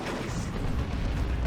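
Base turrets in the strategy game Dawn of War 2 firing at a Chaos Lord unit, a dense, continuous rumble of booming shots with no clear gaps, fairly loud throughout.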